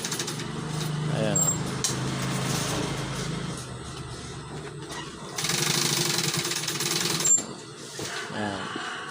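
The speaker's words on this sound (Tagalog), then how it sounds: "Malapit nang matapos tahiin." A sewing machine stitching a curtain runs in a rhythmic mechanical whir that rises into louder stretches, while someone talks over it close by.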